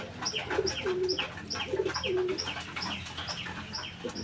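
Fancy pigeons on a Bangladeshi farm coo repeatedly in soft, rhythmic phrases, with a male's deep rolling call rising and falling among a busy background of other birds and chirps.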